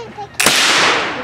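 A muzzleloader rifle fires a single loud, sharp shot at an outdoor woods-walk shooting match, with a long rolling echo trailing off into the trees.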